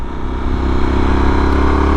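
A Yamaha Super Tenere motorcycle fitted with a slip-on exhaust, its engine running close and loud with a steady, throaty rumble and slight rise in revs, no talk.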